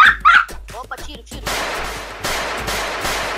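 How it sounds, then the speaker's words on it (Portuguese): Gunfire in an online battle-royale style video game cracks out as a burst of sharp shots followed by a stretch of noisy, rolling reports, loud and close, with players talking briefly at the start. "tiro. Ah, eu ouvi também."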